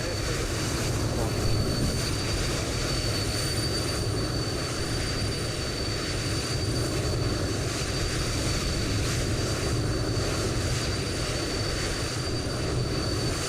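Bombardier Challenger jet taxiing in Microsoft Flight Simulator 2020, a steady loud engine whine and roar that holds unchanged throughout with faint talk underneath.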